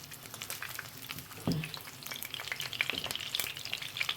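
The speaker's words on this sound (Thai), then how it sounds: "ทอดไปเรื่อยๆก่อนทุกคน ม่ไม่เหลืองค่อยกลับทีเดียว" Fish frying in hot oil makes a continuous close sizzle with popping crackles, and a brief clunk partway through.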